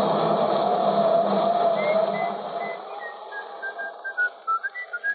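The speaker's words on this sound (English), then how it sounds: "Cut out that whistling." A person whistles a wavering tune over a steady engine-like hum, which fades out as the whistling turns into short, separate notes.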